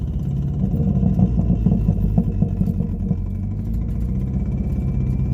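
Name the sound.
engine of a big turbo Ford Fusion that may have blown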